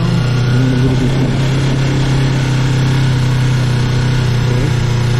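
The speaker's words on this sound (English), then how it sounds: "I'm holding, I'm giving the throttle." A motorcycle engine runs loud and close with a steady, droning hum while the throttle is given, the pitch holding fairly even rather than rising sharply.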